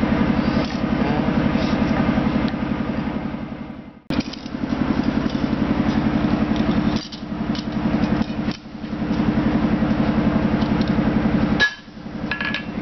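Rapid, steady hammer blows on a hot blade edge during forging of a bushcraft survival knife, a close, loud metallic pounding that runs almost continuously with a few brief pauses.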